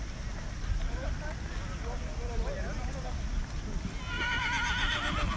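Horse whinnying amid the crowd at the Soma Nomaoi samurai horseback festival, a rising, wavering neigh near the end over steady outdoor noise and hoof sounds, people talking nearby.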